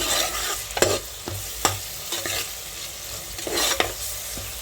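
Tomato pieces and turmeric stirred in a hot frying pot with onions for a country chicken curry: a steady sizzle broken by several sharp scraping and clinking strokes of a spoon against the pot, close and fairly loud.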